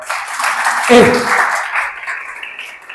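A church congregation applauding during a sermon, a sustained wash of clapping that swells briefly and then eases, with a voice and some tonal sound mixed in.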